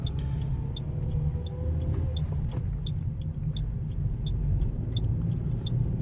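Toyota Corolla rolling along a quiet side street with little traffic, giving a low steady road rumble from inside the car and a regular faint ticking through it, no talk.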